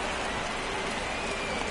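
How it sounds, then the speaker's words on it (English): Steady rain falls on a baseball stadium during a game, a dense even hiss with no pauses or voices. "This rain is not letting up."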